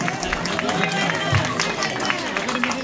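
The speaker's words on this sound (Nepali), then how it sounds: "ताली प्लिज ताली ताली ताली" Applause and clapping from an audience at a Losar New Year party held by a Manang community society in the USA, a dense, steady wash of hands mixed with crowd chatter and voices throughout.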